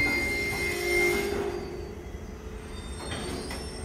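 A CSY diesel locomotive idles at a railway junction station yard, a low steady rumble with faint metallic whine and a thin high squeal over it, fairly quiet and continuous with no voices.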